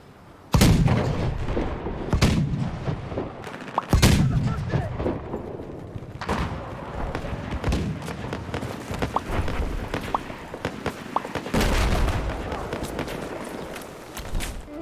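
An old cannon firing in Battlefield 4 on the Operation Mortar map: heavy booming shots at irregular intervals, each a loud sharp blast with a rumbling tail, mixed with smaller gunfire and battle noise.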